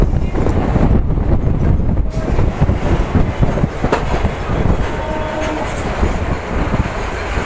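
A train on the South Eastern Railway Kharagpur line out of Howrah rumbles loudly and close, its wheels clattering with a steady rhythm and brief higher tones rising over the heavy, continuous roar.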